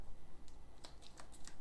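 A deck of cards riffled and reshuffled at a tabletop game, a few quick, crisp flutters and snaps coming close and fairly quiet over a soft background hiss.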